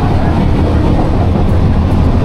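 A moving passenger train fills the space with a loud, steady rumble and rattle that runs unbroken from start to finish, with no voices.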